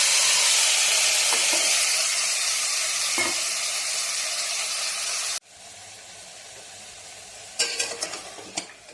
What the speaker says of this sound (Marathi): मी याच्यामध्ये घालणार आहे हे मॅरिनेट केलेलं मटण।